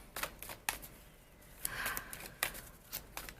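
Tarot cards being shuffled nearby, a series of quick, soft riffling bursts with short pauses between them.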